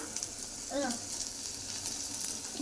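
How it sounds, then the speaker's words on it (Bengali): Okra (bhindi) frying in a pan in a home kitchen gives a steady, close sizzle that fills the whole stretch, with a brief faint voice partway through. "এই ঢেঁড়স ভাজা হচ্ছে"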